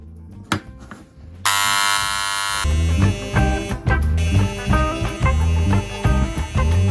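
A Ferrex electric engraving tool cuts into a metal spanner, giving a loud, steady buzzing drone with rattling, chattering contact noise that starts, stops and shifts as the tip moves over the steel.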